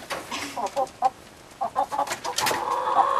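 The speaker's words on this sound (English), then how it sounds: "Here's the rest of our chickens." A backyard flock of chickens, including Araucana, Delaware, Black Australorp and Buff birds, clucks in short repeated bursts nearby, several birds overlapping with rising activity toward the end.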